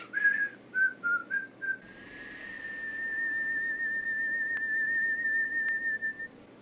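Someone whistles a clear melody alone, a few short notes at first, then a long sustained tone held steadily for several seconds.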